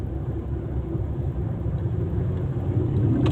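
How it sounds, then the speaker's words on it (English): Big trucks driving on a road in the Philippines, a steady low rumble of engines and tyres that stays loud and even throughout, heard from close by with no talking. "I'm in between two big trucks."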